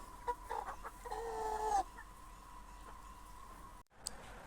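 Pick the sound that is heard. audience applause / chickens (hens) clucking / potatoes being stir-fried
chickens (hens) clucking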